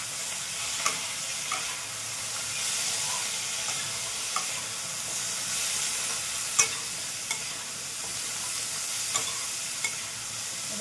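Pumpkin frying and being stirred in a pan on a home stove, a steady close sizzle with scattered scraping knocks from the stirring.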